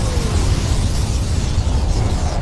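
A mining facility explodes in the Star Wars Empire space-strategy game, producing a sustained, loud, rumbling blast with heavy low-end boom and steady roar for the whole stretch, with no speech over it.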